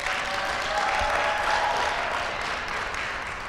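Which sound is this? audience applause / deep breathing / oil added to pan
audience applause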